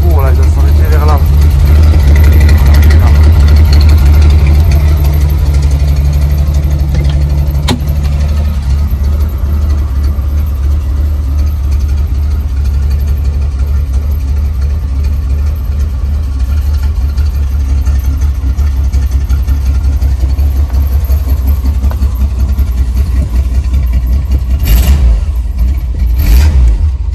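A 1983 AMC Eagle 4x4 Wagon with its 4.2 engine idles steadily and loudly nearby, a deep continuous rumble with a brief rise partway through, while someone talks over it.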